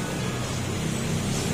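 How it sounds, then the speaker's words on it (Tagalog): Honda RS150 motorcycle engine, leaking fuel, idling after being started, a steady low rumble with a faint rhythmic pulse held at an even level for the short stretch, no talk over it. "ayan, maandar na yung motor"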